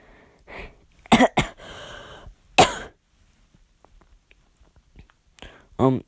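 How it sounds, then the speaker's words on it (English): A person coughs and clears their throat late at night, a few sharp bursts close to the mic separated by quiet pauses, with faint breathy sounds between and another short burst at the end. "Oh, sorry about the cough."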